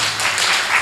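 Audience applause at a yoga and talk event, a brief, loud burst of many hands clapping together with no voices over it.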